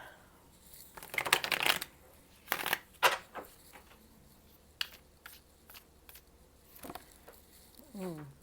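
Tarot cards being shuffled by hand, bursts of riffling and flapping card noise with taps and pauses between, close and fairly loud.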